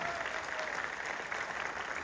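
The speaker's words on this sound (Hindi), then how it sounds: "दोस्तों तालियों में दम नहीं था" Audience applause at a business presentation, a steady dense wash of clapping from a crowd that holds at an even level for the whole stretch with no voices over it.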